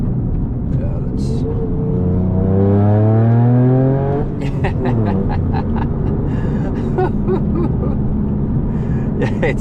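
A Toyota GR Yaris GRMN engine revs loudly and close, its pitch climbing for about two seconds before dropping off. A busy stretch of mechanical noise follows, with the engine idling and burbling underneath.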